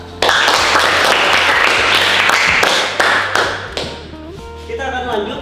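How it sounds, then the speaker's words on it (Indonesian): A classroom of students claps for a student group after its presentation, a dense burst of many hands that fades after a few seconds, with voices and tapping sounds mixed in near the end. "Kita beri tepuk tangan dulu buat mereka."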